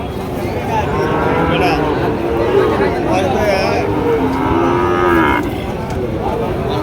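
Cows mooing loudly and repeatedly at a livestock market in Bangladesh, several animals calling over one another amid crowd chatter and a busy outdoor din.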